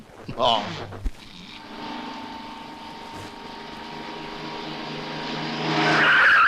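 A brief sharp sound near the start, then a car engine drones steadily, rising toward the end with a high squeal.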